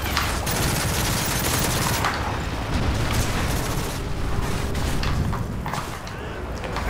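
Dense, continuous heavy gunfire and explosions from an AC-130 gunship in the Modern Warfare 3 video game, loud and sustained throughout with rapid bursts layered over a booming low rumble, and some faint talk mixed in.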